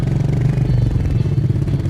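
A 2020 Royal Enfield Meteor 350 motorcycle runs with its engine close by, giving a loud, low, thumping exhaust note that chugs at an even beat.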